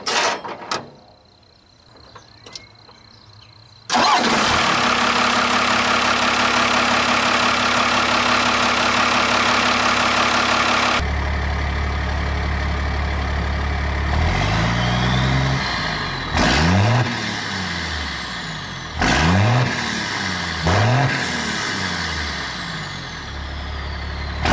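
A first-gen diesel heavy tow rig fitted with 7x.011 148-degree SAC injectors starts from a quiet idle, then runs loud and close, with several throttle blips that rise and fall in pitch.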